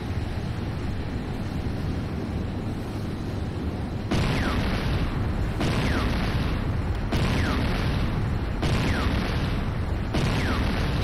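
Repeated booming explosions from an attack on a Nod Harvester in Command & Conquer Renegade, a dense roaring blast layer with a new heavy burst roughly every second and a half.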